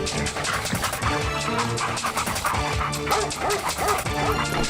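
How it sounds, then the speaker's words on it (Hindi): A cartoon dog barks and yips repeatedly, loud and close, as it chases someone in an animated Hindi comedy story, mixed over busy background music. "तब उसके पीछे एक कुत्ता पड़ गया"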